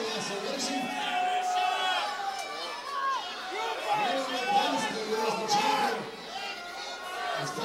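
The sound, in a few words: wrestling crowd cheering at a steel cage match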